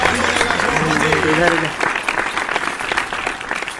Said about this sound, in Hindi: तालियां बजाइए, स्वागत कीजिए